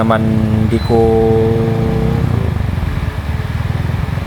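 A 200cc Rossi motorcycle engine hums steadily at close range while riding, with a brief pitch shift early on, then settling into a continuous idle-like drone.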